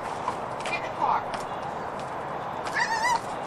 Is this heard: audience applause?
no